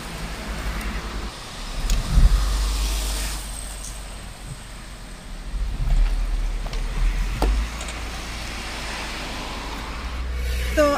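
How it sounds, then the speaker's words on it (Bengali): A car backing up in reverse gear during a driving lesson, heard from inside as a steady low engine rumble with broad road noise and a few faint clicks, close and continuous. "আবার পিছিয়ে নিচ্ছি, তার মানে ব্যাক গিয়ার করতে হবে"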